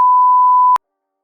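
A single loud, steady pure-tone censor bleep lasting under a second, cutting off abruptly into silence.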